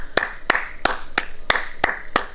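A single person claps in applause for a brother's good school report, seven sharp, evenly spaced claps, close and loud, alone without other sounds.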